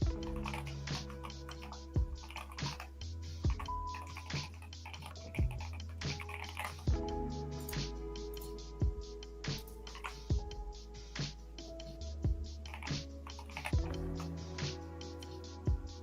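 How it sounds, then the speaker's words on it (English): Close, quiet clicking of keys on a computer keyboard, rapid and uneven, with occasional heavier taps, continuing steadily throughout. "Can you all hear me typing?"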